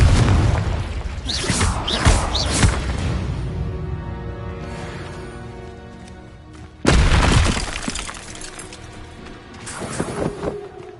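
A Confringo explosive spell blasts in the Hogwarts Legacy video game, a loud booming burst with shattering, breaking debris, followed by a second sharp blast several seconds later as the rumble trails off.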